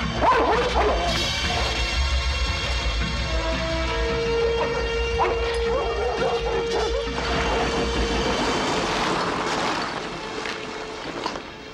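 Several dogs bark excitedly in rapid, overlapping yips while an aircraft propeller drones steadily beneath them, loud and continuous throughout.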